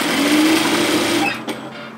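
A sewing machine stitching a 1 cm seam on an apron dress: a steady, fast mechanical whir of needle strokes that slows and stops, followed by a brief clack.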